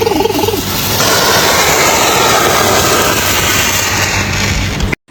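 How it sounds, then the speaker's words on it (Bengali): A small ship's engine in a sea-mission game starts and runs, a loud, steady, broadband roar holding for about five seconds before cutting off abruptly. "ইঞ্জিন চালু।"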